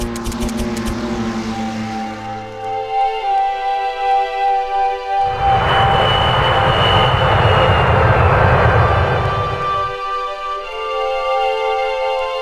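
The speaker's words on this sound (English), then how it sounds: "Right-click the airbase to send your Lancaster bombers in to destroy it" Propeller-driven Lancaster bombers from the Rise of Nations strategy game drone overhead, a loud swelling engine roar with layered tonal hums that builds through the middle and then eases off, against a background of game sound effects.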